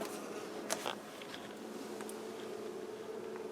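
Honeybees hum at an indoor observation beehive linked to a window by a tube, a steady faint buzz with a couple of brief louder passes close by.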